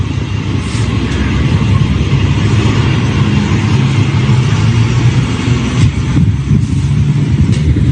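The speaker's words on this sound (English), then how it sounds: "See the bus is driving away." A bus drives away from a roadside pickup in San Antonio, its engine rumbling loud and steady throughout with a broad road roar and no talking.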